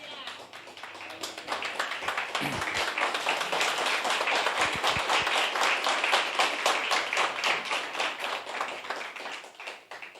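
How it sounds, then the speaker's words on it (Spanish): Church congregation clapping to praise God during a pastor's video-call service, a rapid, fairly rhythmic run of hand claps heard through a compressed online connection, with a few dull knocks early on. "si lo cree, dele unas palmas al Señor."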